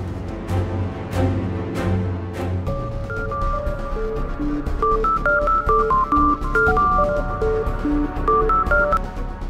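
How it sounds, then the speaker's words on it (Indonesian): A phone number is dialed: a run of short, steady touch-tone beeps at varying pitches, following a few soft key clicks, with no talking. "Ntar gue harus telepon Yasmin."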